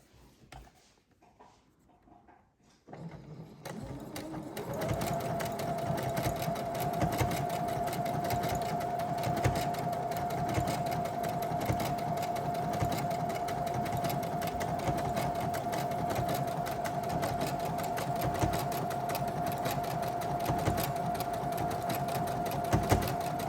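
A sewing machine runs steadily after a brief quiet start, stitching a closing seam on vintage long-leg underwear being shortened; the motor's hum and rapid needle clatter continue evenly and close up for about twenty seconds.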